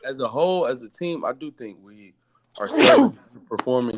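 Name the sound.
sneeze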